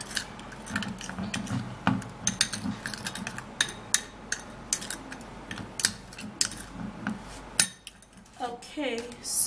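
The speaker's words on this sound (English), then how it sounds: "Into this mix, and then I'm gonna be mixing it very well." A spoon clinks and scrapes repeatedly against a bowl while stirring a ginger powder mixture, steady rhythmic taps close by, with a brief pause near the end.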